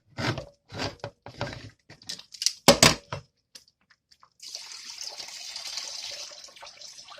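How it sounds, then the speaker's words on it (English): Liquid poured off canned food into a sink while making camp stew: a steady, soft splashing stream that starts after several seconds of clunks and handling noises and continues evenly to the end. "Pouring the liquid off of it."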